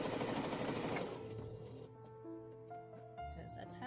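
A sewing machine stitches a pillowcase in a fast, rattling run that stops after about a second, followed by quieter handling sounds and someone talking.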